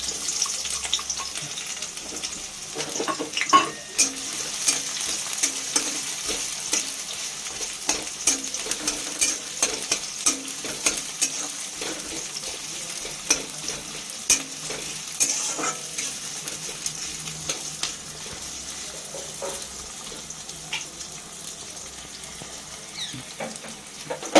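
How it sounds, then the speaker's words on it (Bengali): Chopped onion fries in oil in a pan, giving a steady sizzle with frequent small crackles and pops, heard close by, plus a few scraping stirs and some brief louder clatters. "পেঁয়াজটা ভাজা হচ্ছে।"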